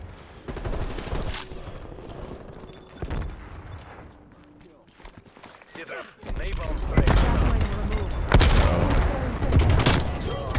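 Close AK47 bursts in Call of Duty Cold War, several sharp volleys in quick succession, loudest toward the end, with a player talking between shots.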